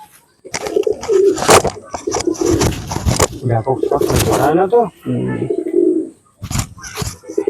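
A young pigeon coos in soft, throaty bursts close by, mixed with someone talking over it.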